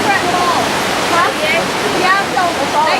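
Rushing creek water on the rocky Grotto Falls trail, a loud steady wash of flow, with voices faintly present in the background.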